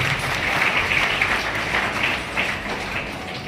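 An audience at a school event in Suliyari claps loudly and steadily in a dense, continuous wash of applause honouring a regional director, with faint voices mixed in.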